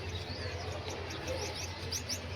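Gouldian finches chirp softly in a breeding cage, a few thin high calls over a steady low hum, fairly faint and without talking.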